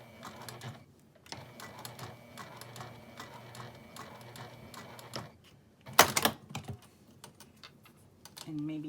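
A sewing machine top-stitches across the top of a zippered fabric case beside a swivel clasp, running in steady bursts of rapid stitching with brief pauses and a louder clatter near the end.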